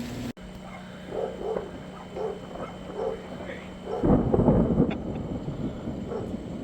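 Thunder rolls during a thunderstorm, a broad rumble swelling loud partway through over steady background noise, with a voice and a dog briefly audible.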